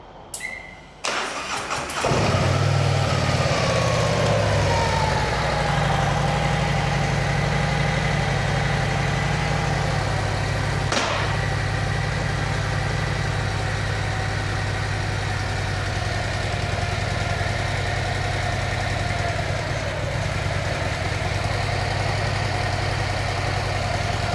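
A Harley-Davidson CVO Street Glide motorcycle engine cranks and fires up, then settles into a steady, loud, low rumbling idle that carries on alone without being revved.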